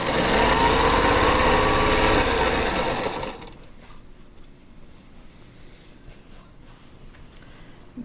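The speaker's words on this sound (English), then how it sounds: "Don't run out of bobbin on me now, Maybelline." A sewing machine stitches the last border onto a scrappy quilt, whirring loud and steady for about three seconds before stopping abruptly, leaving only quiet room noise.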